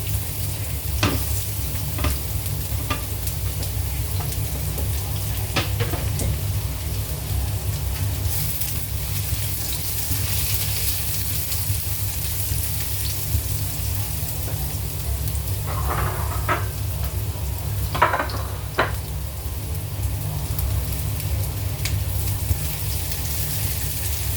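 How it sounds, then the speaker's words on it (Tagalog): Garlic sautéing in oil in a pan, a steady close sizzle with low hum throughout, broken by occasional spatula scrapes and taps. "magigisa tayo ng bawang"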